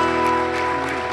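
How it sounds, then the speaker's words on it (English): A congregation at a Sunday gathering applauds volunteers who chipped in, giving a brief, steady patter of clapping at moderate distance, mixed with a sustained tonal hum from the room. "how about a round of applause for all the guys who chipped in and did that?"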